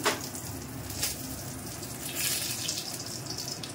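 Panch phoron five-spice and a cut dried red chilli crackle and sizzle softly in hot oil, a steady low hiss with no voices.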